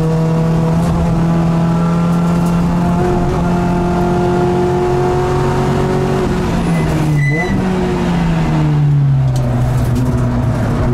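A Peugeot 208 Racing Cup race car accelerates on the Magny-Cours circuit during a 24-hour event, its engine droning loud and steady from inside the cockpit, with a quick gearshift dip before the revs climb again.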